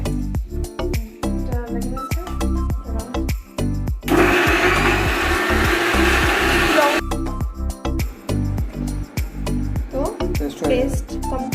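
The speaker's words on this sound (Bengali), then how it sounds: "জল দেওয়া ব্লেন্ড করো" An electric blender grinds onions with water into a paste, a loud steady whir lasting about three seconds in the middle, with voices talking before and after.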